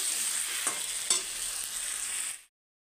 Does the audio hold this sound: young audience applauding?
no